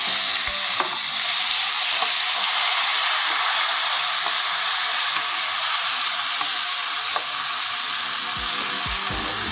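Chopped tomatoes and turmeric fry in a hot pan with a loud, continuous sizzle, broken by a few sharp clinks of stirring.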